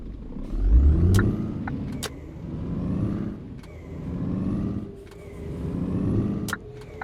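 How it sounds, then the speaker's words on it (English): A simulated Scania truck engine in On The Road: Truck Simulator rumbles and revs in low, repeating surges, with occasional sharp clicks and hissing transients over the drone. "it's nice to be back in the Scania truck again"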